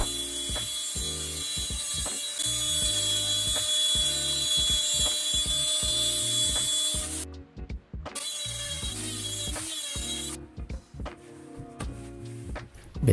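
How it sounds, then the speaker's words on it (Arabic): A power router or similar grooving tool cuts a channel into the back panel of a wooden cabinet box, a loud, steady, whining machine drone with rhythmic chattering pulses, briefly dropping out twice before starting again. "انا هفحر ظهر العلبه"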